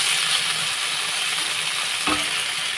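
Bitter gourd slices frying in hot oil in a home kitchen give a loud, steady sizzle that runs throughout, with a brief metallic clink near the end.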